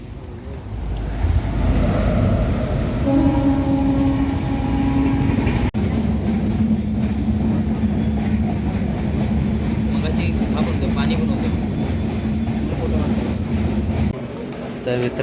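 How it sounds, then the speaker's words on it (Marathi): A passenger train stands halted at Savarda station in India, giving off a continuous loud rumble and low engine hum with a few shifting tones, with a voice talking over it. "आता आलो आहे सावर्डा स्टेशनवर आणि इथे 20 मिनिटं थांबणार आहे ट्रेन"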